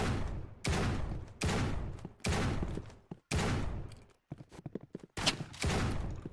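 Gunblade weapon firing in the Roblox game Rivals, a series of loud repeated bursts in quick succession with short gaps between them.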